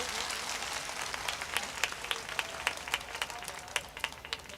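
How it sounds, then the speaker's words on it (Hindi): Fairly faint audience applause at a gathering after a girl recites a song, a soft continuous patter with sharper individual claps standing out toward the end, with some voices underneath. "जरा एक बार जोरदार तालियां बजा दीजिए"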